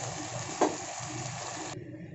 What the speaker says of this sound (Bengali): এখানে সসটাকে একটু নাড়াচাড়া করে নিয়েছি